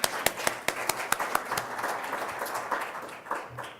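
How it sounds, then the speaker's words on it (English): Audience hands clapping in a hall, a few distinct sharp claps at first, then a denser scattered patter of applause from many people, moderately loud and fairly close, with no talk over it. "raise your hand and clap 3 times to thank him for all his"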